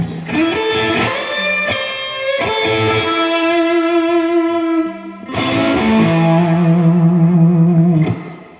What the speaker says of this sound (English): if I go back to the electric guitar, now if I play the same thing